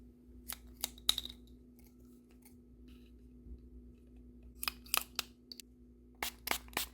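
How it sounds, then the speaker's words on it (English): Small scissors snip through straw rollers for doll hair, crisp isolated cuts in two clusters with a quiet gap between, close and clear over a faint hum. "So I'm gonna cut some straw rollers."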